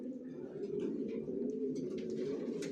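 Racer pigeons coo inside a loft, their low, throaty warbling rolling on continuously at close range with soft overlapping calls and no talking.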